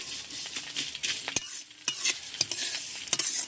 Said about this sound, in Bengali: সম্পূর্ণ সিমাটা দিয়ে দিলাম নেড়ে চেড়ে নিচ্ছি একটু